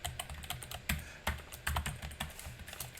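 A computer keyboard clacks with close, uneven bursts of keystrokes as Python code is typed in a code editor, the quick taps fairly quiet and heard alone with no talking.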